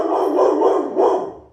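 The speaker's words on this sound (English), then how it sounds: "You can tell it's a big dog." A large dog barks twice with deep, booming woofs that ring out loudly and echo slightly.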